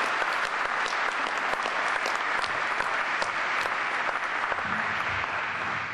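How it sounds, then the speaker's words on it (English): A seated audience at a site selector debrief session gives the guests a round of applause, steady, dense clapping that holds at an even level from start to finish. "Let's give our guests a round of applause"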